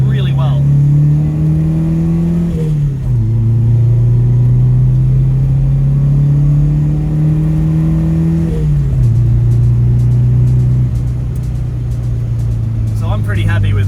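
A Toyota Corolla KE55 with carburettor trouble drives along, its engine droning steadily and loud up close, climbing in pitch through each gear before dropping at two gear changes.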